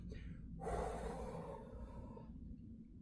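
One long, deep breath is drawn in close to the microphone during a yoga cat pose and slowly released, with a low room hum underneath and no talking.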